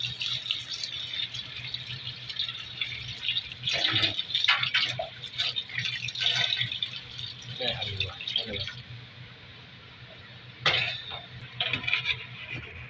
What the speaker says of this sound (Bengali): আবার ধুয়ে নেব।